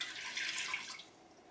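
A cup of water pours into an Instant Pot fitted with its trivet before hard-boiling eggs, a faint, brief splashing trickle that tapers off after about a second.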